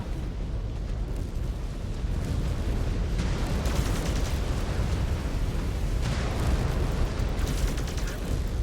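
A destroyed mech's reactor explodes in a MechWarrior Clans battle, a loud sustained rumbling blast with repeated booming surges and crackle, with battle talk over the top.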